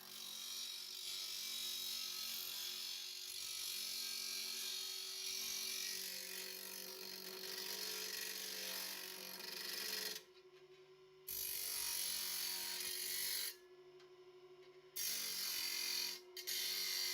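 Repaired scrapyard bench grinder running on test after being bolted in place, a steady whirring drone with a constant motor hum, briefly cutting out a few times near the end.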